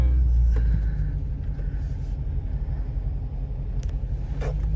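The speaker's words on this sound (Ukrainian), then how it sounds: "Ну машина їде дико просто. Просто неймовірно дико їде." A Dodge Challenger with a Shaker Hood drives on a road, its engine a loud, steady low rumble filling the whole stretch from inside the car, with brief faint voices on top.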